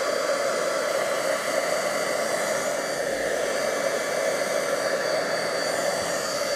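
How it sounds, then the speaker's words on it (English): A heat embossing tool blows hot air steadily over a stamped card, a constant loud whooshing hiss with no break and no voices. "I'm just going to just heat it up a little more just to make sure it doesn't warp."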